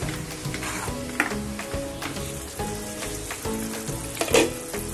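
Masala spices frying in oil in a pan, a steady close sizzle with soft crackles and a few stirring clatters, heard alone without talk.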